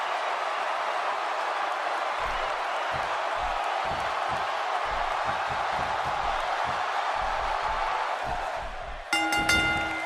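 A packed arena crowd in the WWE 2K16 wrestling video game roars steadily and loudly, with low thumping underneath. A bright ringing tone cuts in near the end.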